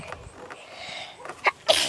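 A single sharp sneeze bursts out near the end, loud and close, after a brief smaller huff, set against a quiet room.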